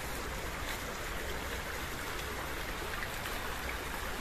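A river flows through a plantation beside the site of an old Kediri kingdom temple and bathing place, its broadband rushing steady and fairly close, with no voices.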